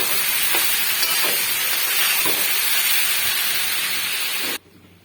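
Gobindobhog rice fries in a pan with a constant loud hiss and a few soft stirring scrapes, close up, before the sound cuts off abruptly near the end.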